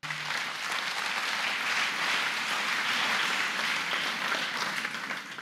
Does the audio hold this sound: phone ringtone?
no